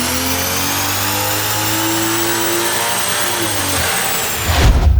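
A tuned car engine with a better exhaust and better fuel revving hard under load, the pitch rising steadily for several seconds before cutting off into a low rumble and thump at the end.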